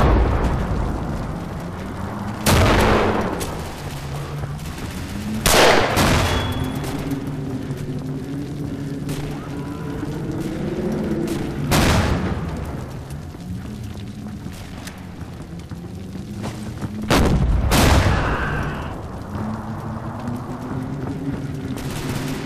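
Several heavy grenade explosions in the video game Red Orchestra burst out at irregular intervals over a low, wavering engine-like drone, each blast loud and sharp before fading.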